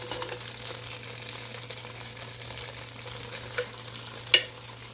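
Beef browning in a Power XL StirMax multi-cooker pot for beef stew, a low steady sizzle with a few faint clicks and scrapes, fairly quiet and without talk.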